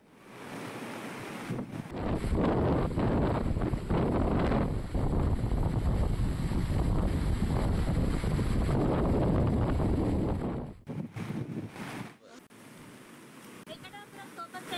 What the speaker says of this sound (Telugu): వరద నీరు ముంచెత్తడంతో ఎటు వెళ్లలేని పరిస్థితిలో ఉన్నారు